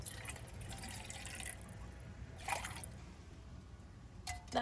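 Water runs steadily into a container, a soft continuous trickle with a couple of brief splashy bursts, fairly quiet and close.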